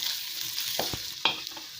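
Spices such as coriander powder and homemade garam masala stirred together in a cooking pan, giving a steady soft sizzle with a few scraping strokes of the spoon, close and alone without voices.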